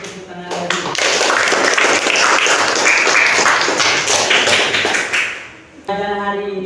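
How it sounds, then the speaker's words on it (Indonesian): A classroom of students claps together in a burst of quick, fairly loud applause that dies away, followed by a voice speaking. "kasih tepuk tangan lagi"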